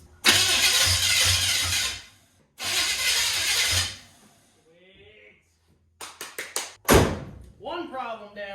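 A truck being converted to a Blazer cranks over on a newly installed starter in two long bursts of churning, followed by sharp clanks and taps; people talk briefly between the attempts.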